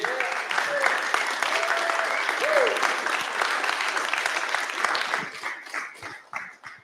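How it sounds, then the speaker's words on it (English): A crowd at a counter-economy gathering applauds a guest, dense sustained clapping with a few whoops and cheers rising above it, then thinning and fading toward the end. "Give him a round of applause, guys."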